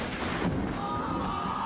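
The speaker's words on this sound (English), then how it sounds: "We were playing Smash in a thunderstorm and this happened." Thunder rolling during a thunderstorm amid steady rain, a broad low rumble that swells and holds across the moment, loud and close with no voices.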